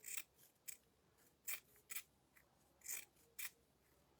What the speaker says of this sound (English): don't be afraid to cut your fabric